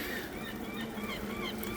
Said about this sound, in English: A bunch of seagulls up there on the restaurant.